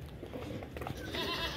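Goats bleat in a farmyard as they are let loose, several bleats sounding fairly near and overlapping, with quiet background noise.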